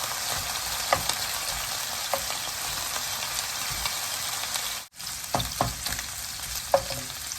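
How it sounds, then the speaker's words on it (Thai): Pork stir-fried with vegetables and dark oyster sauce sizzles steadily in a hot pan, with scattered scraping clicks of the spatula and a brief dropout near the middle; no one speaks. "จะผัดน้ำมันหอยสีดำนะคะ"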